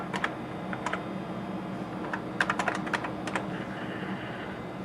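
Someone types a lowercase username and then a password on a computer keyboard to log on to a Safeway PLUM scale system. Quiet, irregular bursts of keystrokes sound close by, with short pauses between them.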